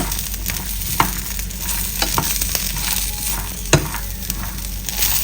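Peanuts frying in hot oil alongside roasted chillies: a continuous sizzle and crackle, with scraping stirs and a few sharper pops rising above it.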